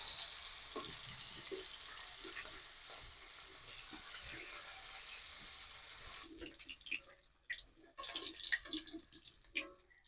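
Aar fish sizzles in a frying pan with a steady, soft hiss that runs for several seconds, then gives way to scattered clinks and light scraping as the fried fish is lifted out.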